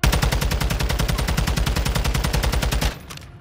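Assault rifle in a video game firing one sustained rapid automatic burst, loud and close, with evenly spaced punchy shots before stopping abruptly and leaving a short tail.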